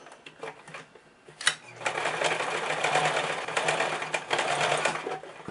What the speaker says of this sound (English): I'm just going to sew this down following the same area where the stitch came from before